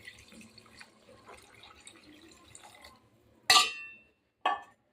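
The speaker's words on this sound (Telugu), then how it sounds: "వాటర్ అయితే 1 లోటా నిండా తీసుకొని వేసుకుంటున్నాను." Water from a full lota is poured into Andhra-style mutton curry in two short, bright splashes near the end, after soft, quiet kitchen sounds.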